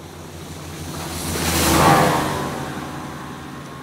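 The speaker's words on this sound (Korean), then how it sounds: "물 위에를 이렇게 찰펑찰펑 하는 소리까지 이렇게 들리죠." A Ranger boat sound effect: one swelling splash of water as it passes, building to a loud peak midway and fading again, with no voices.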